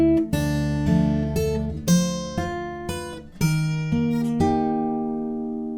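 Fingerstyle acoustic guitar picks out a line of the Harry Potter theme, a slow melody of about nine plucked notes and chords, each ringing clearly and decaying, with the final notes left to sustain.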